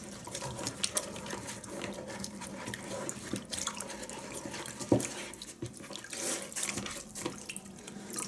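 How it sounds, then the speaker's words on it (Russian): A sanding sponge is rinsed and squeezed in a basin of water, giving soft continuous splashing and dripping with occasional sharper sloshes, close and fairly quiet. "Я сейчас ее просто в воде помою."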